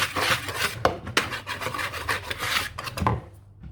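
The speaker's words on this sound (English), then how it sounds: "Give it a mix." Seasoning is mixed into fish by hand, giving close, rough rubbing and scraping strokes in an uneven rhythm with a few sharper knocks and no voices.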